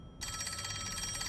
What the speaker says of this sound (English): Somebody please answer the phone.